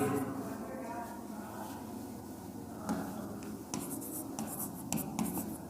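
Marker or chalk writing on a board during a lecture on the Indian Constitution, with faint scratchy strokes and taps under a low voice, growing more distinct in short bursts toward the end.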